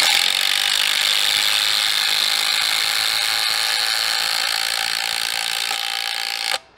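A cordless DeWalt or Bosch impact driver with a 2 amp hour battery hammers a screw into wood. The loud, continuous, rapid ratcheting clatter runs close-up and unbroken for over six seconds before cutting off abruptly.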